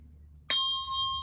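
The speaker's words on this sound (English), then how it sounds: "I send my heart along with the sound of the bell" A meditation bell is struck once, a bright clear strike that rings on in a steady sustained tone, alone over quiet background.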